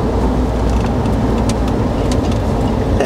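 The 460 V8 engine of a 1978 Ford F250 4x4 pickup drones steadily and loudly from inside the cab, with road rumble and no clear rise or fall in pitch.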